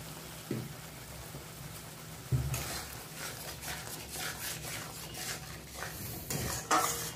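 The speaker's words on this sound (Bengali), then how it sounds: "মশলাটা যত সময় তেল না ছেড়ে দেয় তত সময় কষতে থাকবে।" Spice paste with salt and turmeric stir-fried in oil for a chicken and green jackfruit curry, with steady sizzling and repeated scraping and clinking of a spoon against the pan, close and alone with no talk.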